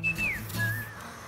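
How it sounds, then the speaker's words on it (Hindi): A person whistles a short high note that slides downward, followed by a second, softer wavering whistle, brief and close. "बच्चों की बस की बात नहीं है सीटी बजाना।"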